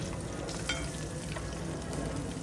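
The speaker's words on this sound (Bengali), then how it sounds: "আমি কিন্তু একদম মিডিয়াম হিটে আমি এই আইটেমটা ভাজতেছি" Crispy battered shrimp fry in oil over medium heat, giving a dense, even crackling sizzle that holds steady throughout at a moderate, close level.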